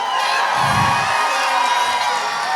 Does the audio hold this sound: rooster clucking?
no